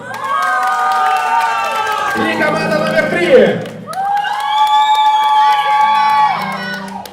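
Children and adults at a summer camp show shout, whoop and cheer for a competing team, loud and continuous with sung or shouted tones, and a voice announcing a team is heard.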